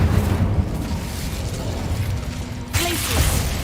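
An Incendio fire spell flares in Hogwarts Legacy with a steady rushing roar and mechanical clatter, then a fresh surge of whooshing flame near the end.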